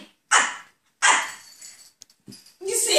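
A dog gives loud, sharp barks nearby, two strong ones close together and then more broken barking and whimpering yelps, each separated by short silences.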